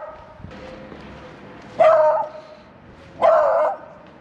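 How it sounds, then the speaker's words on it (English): An outdoor dog in Saint Pierre gives two loud, sharp barks a little over a second apart, close by, with quiet ambient background between them. "Killer dog here."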